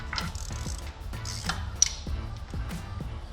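A small swivel-head ratchet turns a 13 mm bolt, producing rapid mechanical clicking in repeated bursts close to the microphone, with no talk.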